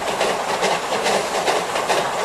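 A Maria Fumaça steam train runs through the forest with a steady, close rolling rumble and a rhythmic clickety-clack of the wheels on the rails, continuous throughout with no voices.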